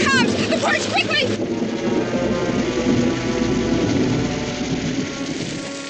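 Heavy rain pours down steadily with a low rolling rumble of thunder beneath, a continuous storm wash that fades slightly toward the end, with a brief high call briefly over the opening.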